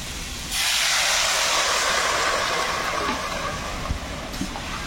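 Water poured into a hot pan of fried potatoes and Malabar spinach seasoned with salt and turmeric sets off a sudden loud, steady sizzling hiss that holds strong for several seconds without talk.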